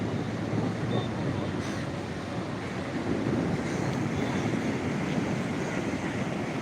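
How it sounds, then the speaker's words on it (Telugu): Ocean waves at Vizag beach roar as a continuous, dense wash of surf, steady and close, with wind buffeting the microphone throughout. "వైజాగ్ బీచ్ అనమాట ఇది"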